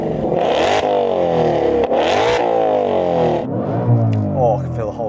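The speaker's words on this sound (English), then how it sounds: "So this is my supercharged V8." A supercharged V8 in a Mustang revs hard several times, loud and close, each blip rising and falling in pitch as it climbs and settles back, with no talk over it.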